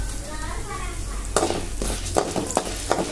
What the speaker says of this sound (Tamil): உளுத்தம்பருப்பு போட்டு நல்லா வறுத்துக்கோங்க